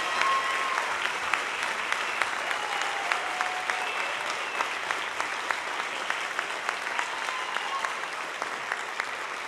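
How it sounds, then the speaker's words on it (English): A crowd of parents and guardians applauds the junior high Bright Band after their band camp performance, a steady dense wash of clapping that holds at full strength for the whole stretch with no voices on top. "don't you think you need to give them another big round of applause?"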